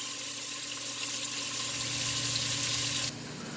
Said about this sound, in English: While the carrot and celery and onion is cooking here, by the way, it's on a medium